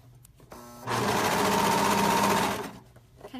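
A sewing machine runs a stretch lightning-bolt stitch over a seam on knit joggers, a close, even motor hum lasting a couple of seconds between quiet moments before and after.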